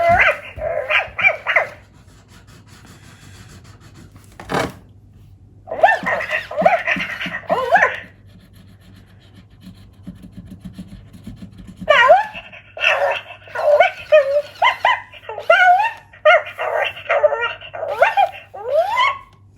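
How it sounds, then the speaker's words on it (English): A small pet dog gives several bursts of barking and yips with whimpering between them, close by, separated by quiet gaps, with a sharp knock near the start of the quieter stretch. "I think she wants to go in her kennel, Georgie."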